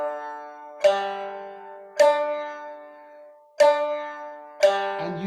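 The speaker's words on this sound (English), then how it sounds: "We can just a normal pluck with the plectrum." Four separate plucks on a shamisen string with a plectrum, each a bright twangy attack ringing out and decaying, spaced about a second apart, close and alone.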